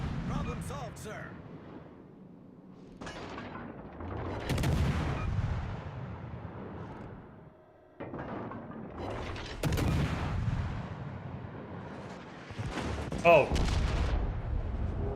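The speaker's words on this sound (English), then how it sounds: "There was 3 salvos there, where when I double-clicked, the guns went off at the same moment." Heavy battleship guns boom in salvos during a naval video game match, several loud broadband blasts spread across the stretch, mixed with game announcer lines and a player's voice talking over them.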